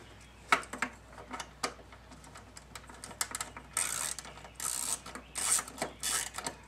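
A ratchet clicks rapidly as bolts are loosened during an evaporator core replacement on a 1994 GMC Suburban/Silverado K1500, with bursts of sharp close ratcheting separated by short pauses and a few louder clunks, and no talking.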